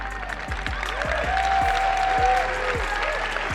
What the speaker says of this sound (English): you know what's most interesting to me is how not loud that clap is